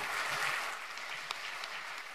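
Brief, faint applause rises from an audience at a Basta Euro Tour rally in Milan, a soft wash of clapping that fades slightly over two seconds.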